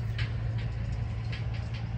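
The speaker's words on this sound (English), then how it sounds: "That guy's driving by on that truck anyway." A truck drives by outside, heard as a low steady engine rumble and drone running throughout at moderate distance, with a few faint higher clicks and no talk.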